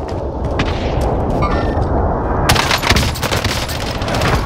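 Loud, continuous gunfire and a precision airstrike in Call of Duty Modern Warfare, with rapid shots and heavy booming blasts that swell into a dense roar midway.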